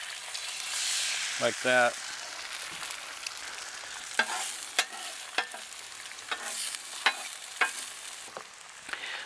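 Eggs fry on a Blackstone portable griddle with a soft, even sizzle, broken by sharp scrapes and taps of a spatula on the metal. A voice speaks briefly near the start.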